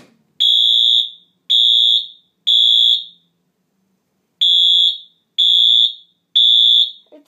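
Fire alarm system under test in a home, sounding a loud, piercing electronic horn in a temporal pattern: three long blasts, a pause, then three more, close and alone.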